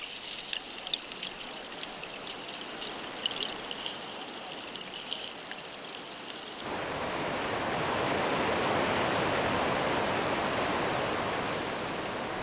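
River rapids and waterfall on a salmon migration route on a tributary of the Fraser River, starting as a softer rushing flow and then swelling into a loud, steady roar of churning water.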